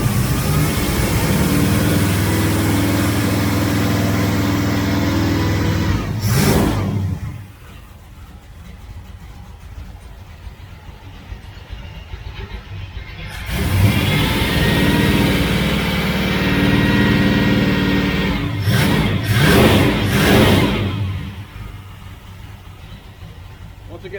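A 1966 Dodge Charger engine with a Holley 4150 carburetor idling before fully warming up, a loud steady rumble that drops away partway through and then returns, with a person talking at times.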